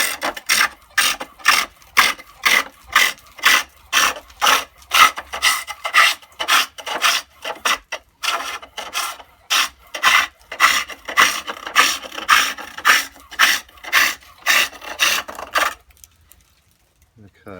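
A pole lathe turns wood while a garden dibber is roughed out, giving a steady rhythmic series of rasping, scraping cuts in regular pulses about twice a second, close and fairly loud, stopping near the end.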